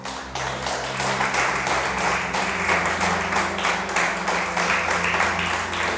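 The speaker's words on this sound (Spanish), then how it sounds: "Dale ese aplauso al Rey." A church congregation claps together at a Sunday service, with loud, continuous applause from many people over a sustained low musical drone that runs beneath it throughout.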